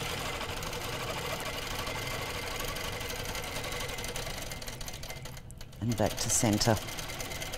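A sewing machine runs steadily while stitching a quilt along a 12-inch Jade spinning wave ruler, a continuous mechanical hum under a person talking, then a short pause and a brief louder burst.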